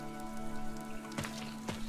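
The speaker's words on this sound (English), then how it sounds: "This rain threatens a coming storm." Rain falls in the video game Fire Emblem Three Houses: a continuous patter sits under sustained tonal game music, with two brief louder splashes near the end.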